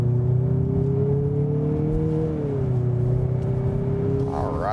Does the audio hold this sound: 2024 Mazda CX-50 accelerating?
yes